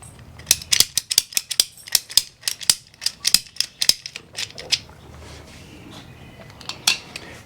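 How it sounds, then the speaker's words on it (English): Water pipe being cut for an outdoor spigot extension, a close run of sharp rapid clicks and snaps in an uneven rhythm that thins out, then one last short cluster. "I'm going to go ahead and cut the pipe and then put the other connectors on."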